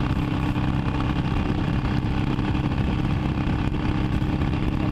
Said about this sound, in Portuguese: acelerando a Fat Boy